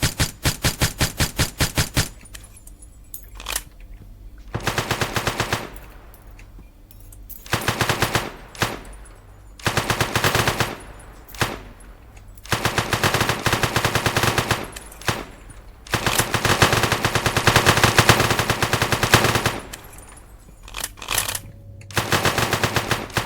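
Video game gunfire in One Armed Robber: rapid automatic bursts come in repeated volleys separated by brief pauses, loud and close, with no speech.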